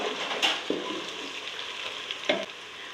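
Garlic ginger paste frying with browned onions in a pan for mutton curry, a steady close sizzle with a couple of sharp stirring scrapes and clinks, no talk.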